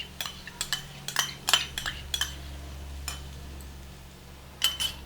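Beaten egg poured into egg tomato fried rice in a pan and stirred: a quick run of sharp metal clinks and scrapes from a spatula against the pan, a pause, then a couple more clinks, over a low steady hum.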